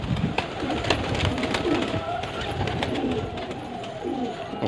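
Pigeons coo softly in a rooftop loft in India, with low murmuring calls repeating over a steady rustling background across the whole stretch.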